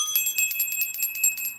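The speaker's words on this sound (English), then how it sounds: "I'm gonna ring the bell for that one." A handheld bell shaken rapidly in a steady fast ringing, bright high metallic tones sustained throughout, close and alone with no talking.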